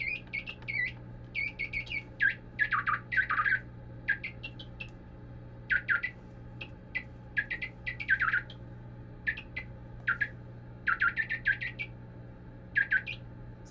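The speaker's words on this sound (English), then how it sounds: "Oh, there's a bird in the studio." A bird squawks and chirps in a studio, with repeated bursts of sharp, fairly close chirps and short calls arriving in irregular clusters over a low steady room hum.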